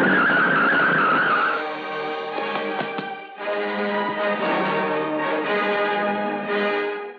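A car in a 1981 Hindi action film brakes hard and skids to a halt, with a sharp tire squeal at the start and then a sustained, loud mechanical rumble and ringing tones, without any voices.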